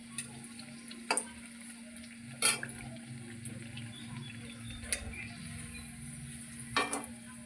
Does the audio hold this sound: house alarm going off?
no